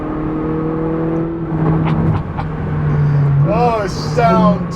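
Ferrari 458 Speciale engine revving close by: a steady idle hum that rises into quick climbing revs, with a couple of sharp throttle blips near the end and a person speaking over part of it.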